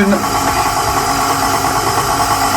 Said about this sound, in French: le crochet sur le batteur et on va attaquer directement le pétrissage